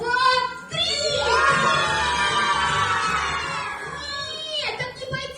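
Children shout a greeting together in unison, a loud sustained group yell with an adult voice speaking before and after.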